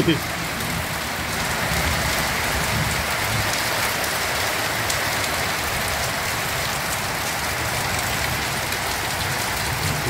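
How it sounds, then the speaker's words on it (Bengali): Heavy rain pours over a house on a hilltop, a dense, even wash of close rainfall that holds steady throughout with no breaks. "দেখেছো কেমন বৃষ্টি হচ্ছে"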